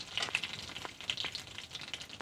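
Hot oil in a pan for a new recipe sizzles and spits with bright crackling pops, fairly faint but continuous with no voices.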